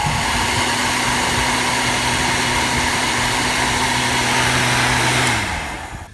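A heat gun blows hot air onto PVC pipe to soften it for bending into a mini hoophouse frame. Its steady, close whirring hum runs without a break, then winds down at the very end.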